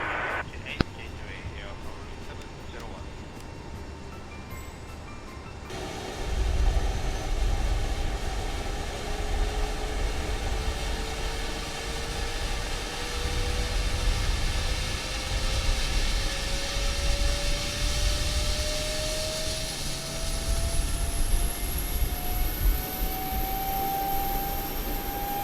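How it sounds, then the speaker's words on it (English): A Boeing 777-300ER auxiliary power unit spools up in Microsoft Flight Simulator 2020, a steady broadband whoosh with a slowly rising whine that climbs throughout, following a quieter opening stretch. "We are starting the APU now, so stand by for ground power disconnection."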